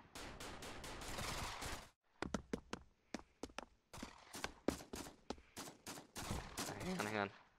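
Gunfire from a gun in the Pavlov VR shooter, starting with a dense burst and then a run of sharp, separate shots in quick, uneven succession, loud and close, with a voice talking at the start and end.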